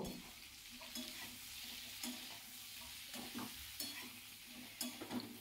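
Pumpkin and chickpea curry with asafoetida stirred in a pan, soft scraping strokes recurring about once a second over a low, steady sizzle, no voices.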